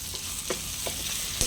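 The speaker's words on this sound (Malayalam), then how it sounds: "ഇനി നമുക്കൊന്ന് മിക്സാക്കി കൊടുക്കാം" Onions and curry leaves being stirred in a hot pan for a mushroom gravy, a steady sizzle of frying under a few soft scraping strokes of the spoon, close and even, with no voices.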